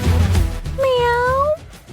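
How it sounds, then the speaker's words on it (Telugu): A cat gives a single drawn-out meow that rises and then falls, close and clear, after a moment of other voices and room noise. "రే, పిల్లి వచ్చిందిరా."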